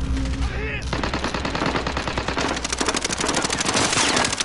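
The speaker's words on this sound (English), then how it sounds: "I'm getting sniped at" Rapid automatic gunfire from a Call of Duty Warzone match, with dense bursts of shots that sound close and loud. A brief lull comes before the firing steadies into a sustained fusillade, and a voice speaks over it.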